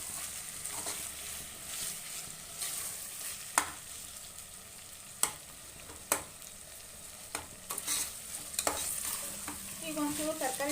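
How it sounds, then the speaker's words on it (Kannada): Tomato frying in oil for vegetable pulao gives a soft, steady sizzle, broken by sharp scrapes and taps of a spoon stirring the pan, with no voices. "ಟೊಮೊಟೊ ಸೇರಿಸ್ಕೊಂಡು ಒಂಚೂರು ಫ್ರೈ ಮಾಡ್ಕೊಳ್ಳೋಣ"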